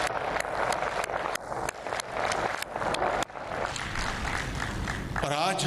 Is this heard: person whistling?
no